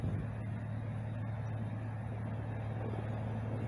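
A sheriff's vehicle carrying a K-9 unit rolls past on a road near Canyonville, a steady, fairly close engine and tire rumble with no one speaking.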